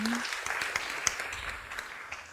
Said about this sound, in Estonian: võtke siis suure aplausiga vastu Grete Rosin-Pinma.